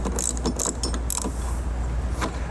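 Torx head bolts are threaded through spacers while a myTop soft top is installed on a four-door Jeep JL, giving a close series of quick metallic ratcheting clicks and rattles over a steady low hum.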